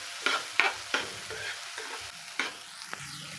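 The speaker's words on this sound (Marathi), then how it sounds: "छान मिक्स करून घ्यायचं।" A spoon mixes green chickpea chaat seasoned with chaat masala and salt, several short scraping and clinking strokes close by, with a faint sizzle beneath and no voices.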